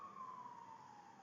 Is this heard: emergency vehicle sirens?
yes